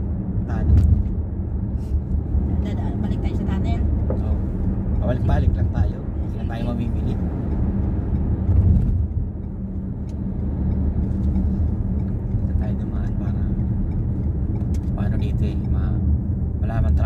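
A car drives through heavy Friday traffic in Riyadh, with a steady low road rumble throughout and people chatting inside the cabin over it.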